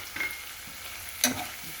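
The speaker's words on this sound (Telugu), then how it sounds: "బాగా కలుపుకోవాలి" A spoon stirs turmeric, ginger-garlic and spices through ridge gourd curry in a hot pan, with close, steady sizzling and frying under soft scraping strokes and a couple of sharper clinks against the pan.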